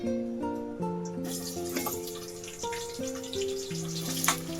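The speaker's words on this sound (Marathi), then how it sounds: "खडे मसाले टाकले आपण सगळे भाजून घेऊया आता टाकूया कांदा" Onion added to hot oil with roasted whole spices, a soft steady sizzle heard under sustained background music tones, at moderate loudness with no talk.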